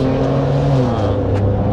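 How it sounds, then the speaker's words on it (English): A 1966 Chevrolet C60 medium-duty truck on a 2004 Express Van cutaway chassis, with a 6-liter motor, revs loud and close in a steady droning tone that shifts pitch partway through. "This is a 1966 Chevrolet C60 medium duty truck, and it's on a 2004 Express Van cutaway chassis"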